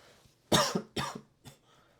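Three harsh coughs close by, the first two strong and the last shorter and softer, with brief pauses between them.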